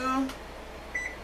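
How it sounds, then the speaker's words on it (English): A kitchen oven's control panel gives a short electronic beep while the preheat temperature is set for curry roast chicken, a single clear tone near the end following a brief stretch of voice at the start. "I'm going to get the oven preheated to"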